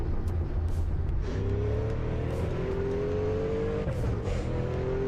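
A race car engine in the driving game Assetto Corsa, played on a home-built sim rig, droning steadily with rising and falling revs through gear changes, moderately loud with no talking.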